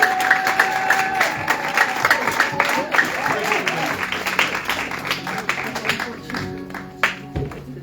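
A church congregation claps and cheers in praise at a French-language service, with dense rhythmic clapping mixed with voices and crowd noise, loud and close, fading slightly toward the end.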